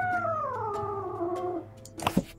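A cat in the adventure game Otherworld: Spring of Shadows gives one drawn-out, descending meow, followed by a few soft clicks.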